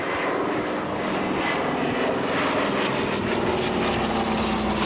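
A Douglas DC-3 Dakota with piston engines and D-Day stripes flies overhead at an air display, a steady loud droning propeller roar that holds throughout.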